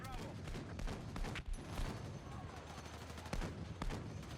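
Gunfire in the video game Battlefield 6, dense bursts of rapid shots and booming impacts over constant battle noise, with a voice talking over it.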